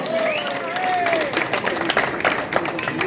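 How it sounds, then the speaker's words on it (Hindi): An audience at a Hindi comedy poetry recital breaks into applause, a dense, steady patter of many hands clapping with a faint voice drifting over it. "ताली बजाओ, सांस लेना है।"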